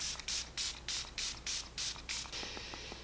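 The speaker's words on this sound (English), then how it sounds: "Let's spray the face" Makeup setting spray is misted onto a face in about seven quick, close pumps of sharp hissing spray, evenly spaced, followed by a softer trailing hiss.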